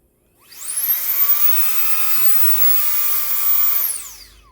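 An Anyeye electric compressed air duster spins up to full power and blows a steady, loud, high-pitched whine of rushing air, holding for about three seconds before winding down, close and with no voices.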